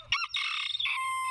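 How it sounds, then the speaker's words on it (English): Molting chickens in a New England setting, one bird giving a loud close squawking crow-like call of several drawn-out notes, alone with no talk. "especially for these molting chickens"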